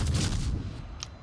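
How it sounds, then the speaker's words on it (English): Ship guns in a naval video game fire a heavy, rumbling salvo that booms close and loud, then fades into a decaying roar within about a second. "somebody is shooting at me"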